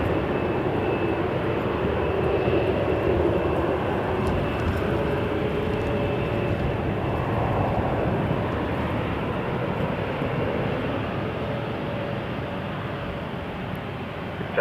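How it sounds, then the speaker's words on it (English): An Embraer 175 jet airliner rumbles steadily at Toronto Pearson Airport, a broad continuous engine roar heard from outdoors with wind, holding loud for the whole stretch before easing slightly at the end. "Jazz 94 is an Embraer 175, and that is headed to LaGuardia."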